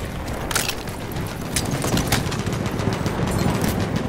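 Machine gun fire in the World War I shooter game Battlefield 1, rapid bursts of close, loud shots repeating over a dense rumble of battle noise, with no talk.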